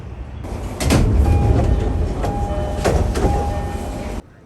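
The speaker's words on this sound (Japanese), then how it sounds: "3番線に入線しました。" A JR East commuter train pulls into platform 3 at Kumagaya station, a loud, steady broadband rumble of wheels and car noise with brief squeals and clacks, ending abruptly; no talking.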